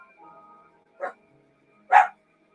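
A dog gives two separate barks about a second apart, the second louder and fuller, with quiet room tone between and no talk over them.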